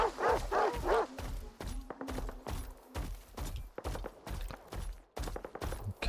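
Dogs bark in the video game S.T.A.L.K.E.R. 2: Heart of Chornobyl, a fast run of sharp barks and yips that overlap like a pack, close and fairly loud, with gunshot-like cracks mixed in.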